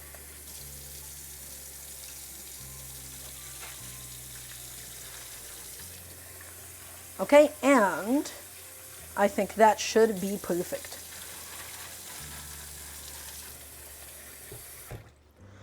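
Kitchen tap water runs over rice being rinsed in a pot, two close bursts of splashing and swirling flow separated by a brief pause, with a steady low hum beneath and a short spoken remark near the end.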